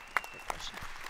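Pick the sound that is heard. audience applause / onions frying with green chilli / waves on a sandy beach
audience applause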